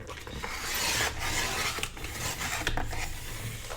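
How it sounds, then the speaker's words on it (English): Paper pages for an envelope journal are trimmed all at once in a continuous rasping, scraping cut, steady and close with faint rhythmic rubbing strokes and no voices. "And I'm just trimming all these at once."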